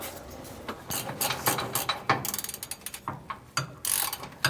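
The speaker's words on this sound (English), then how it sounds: "Now we can go ahead and just tighten these bolts back down." Ratchet wrench tightening bolts on the rear anti-sway bar bracket of a 2017 Winnebago, a Roadmaster bar, giving quick bursts of close, loud clicking with brief pauses between strokes, with no talk.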